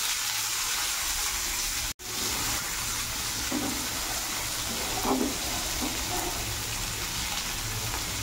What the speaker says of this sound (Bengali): পেঁয়াজটা ভাজতে দিয়ে দেব।